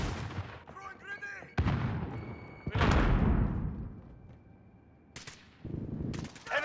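In the video game Call of Duty: Modern Warfare, a grenade goes off with a loud, booming blast that rolls out and fades. Gunfire cracks and game voice lines come before it, and another burst of noise follows.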